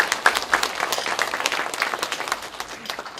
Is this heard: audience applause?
yes